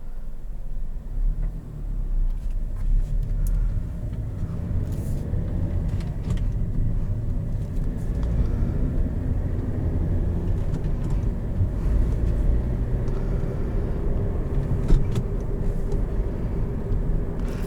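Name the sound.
2013 Hyundai Elantra GT manual car driving on the road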